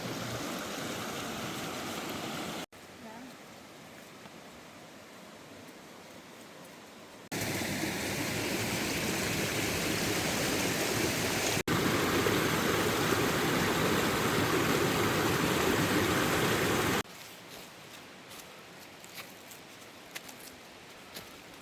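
Reedy Creek Falls in South Carolina roars with a steady, dense rush of falling water, shifting between nearer, louder stretches and softer, more distant ones as the position changes, with no voices present.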